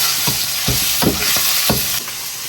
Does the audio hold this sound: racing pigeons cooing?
no